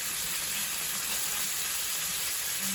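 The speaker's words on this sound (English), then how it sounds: "I'm just trying to get some good color on some of the sides of this before I stick it in to bake it the rest of the way" Pork chop pinwheels searing in a hot pan, giving a steady, dense sizzle with even hiss throughout and no talking.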